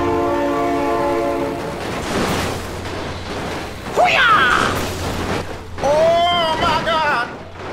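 A train horn blares in a sustained chord, then a train rumbles past nearby while excited voices shout and call out over the noise.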